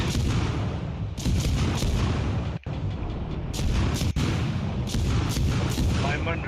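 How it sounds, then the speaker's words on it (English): Warship guns in World of Warships fire rapidly in naval combat, a steady roar of heavy booming volleys with repeated sharp cracks, loud and continuous with brief gaps. "Listen to the rapid fire of that beast."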